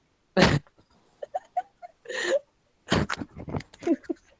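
Several sharp, harsh coughs from a student in a Tajweed question-and-answer class ring out close by, separated by short gaps, with a few throat-clearing sounds and soft noises between them.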